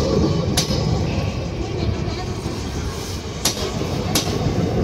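A weekly express passenger train from Lokmanya Tilak Terminus to Bareilly rolls past close by, a loud continuous rumble broken by a few sharp clanks from the wheels and couplings.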